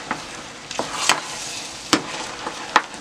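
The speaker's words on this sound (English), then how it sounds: "My stove is on medium, and I'm just gonna continue to stir it every few minutes." Slimy okra sauce being stirred in a pot on a stove over medium heat: a low sizzle runs throughout, broken by several sharp scraping clicks of the spoon against the pot, spaced irregularly.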